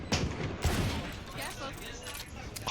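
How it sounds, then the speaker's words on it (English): Vandal rifle gunfire erupts in a Valorant esports match, with bursts of sharp shots at the start and again just past half a second, over continuous commentary and game ambience. "A couple of shots sent off early."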